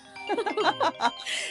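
A mobile phone ringtone plays close and clear as a short tinkling melody of bright chime notes in a quick rising and falling pattern, followed by a brief burst of noise.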